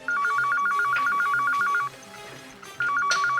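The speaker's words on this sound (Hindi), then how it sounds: "ये लेकिन बेल तो बज रही है।" An electronic telephone rings in a Mumbai hospital room, sounding as a loud, close, warbling trill in rapid repeated bursts that pause briefly and then start again.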